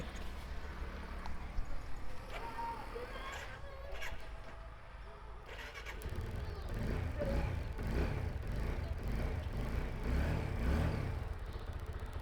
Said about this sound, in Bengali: আমরা গাড়িটা আপনাদেরকে স্টার্ট দিয়ে একটু সাউন্ডটা শুনিয়ে দিচ্ছি